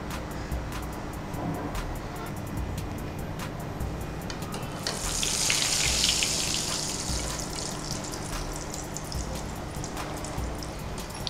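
Egg-dipped bread deep frying in hot oil, a steady hiss and bubbling sizzle that swells louder midway, with a constant background rush throughout.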